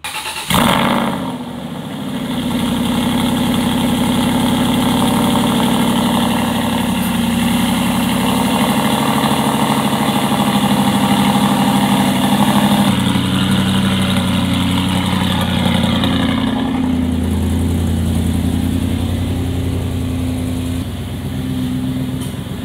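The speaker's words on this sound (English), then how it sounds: "let's get a cold start." Aston Martin engine cold-starting with a quick crank and catch, then settling into a loud, steady idle rumble that holds for twenty seconds with small shifts in pitch, no voices.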